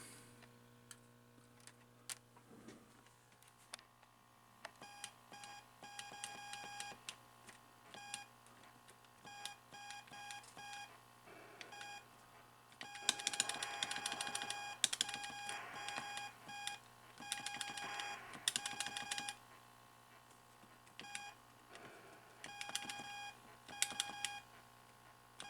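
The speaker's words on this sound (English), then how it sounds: "Let's see what this sound thing is all about. Let's start a game." A 1979 Atari Asteroids arcade cabinet under repair plays its game sounds: steady electronic beeps and tones over a constant low hum, growing busier and louder partway through with rapid bursts of blips, no talk.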